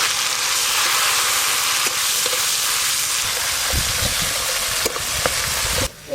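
Chopped tomato hits hot oil seasoned with black cumin and a paste of ground cumin and dried red chilli, cooking for a tilapia curry. A loud, steady sizzle runs throughout, broken by a few stirring knocks near the end.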